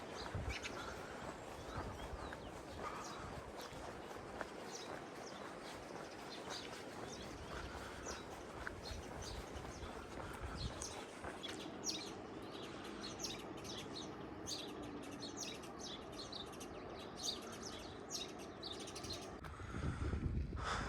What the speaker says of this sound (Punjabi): ਕਿੰਨੇ ਪੰਛੀ ਬੈਠਦੇ ਆ ਗਏ ਇਹਨਾਂ ਤੇ